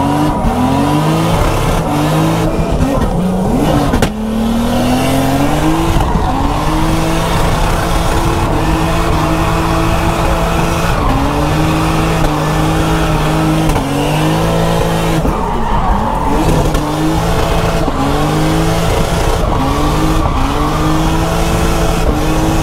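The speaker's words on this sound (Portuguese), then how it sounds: "o carro tá falhando muito, mano" A badly misfiring drift car engine runs loud and continuously, its revs surging and dropping unevenly with stutters and dips throughout.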